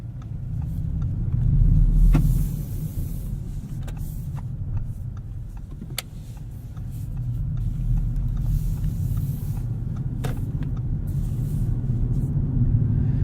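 A 2016 Audi S7 cruises along, its steady low engine rumble and road noise filling the cabin with a slight swell early on and a few faint clicks, no speech.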